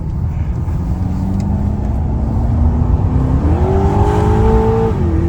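Aston Martin DBX 550/707 SUV cruising on a road, a steady engine drone that climbs in pitch toward the end as it accelerates near 110, heard from inside the cabin over continuous road and wind noise.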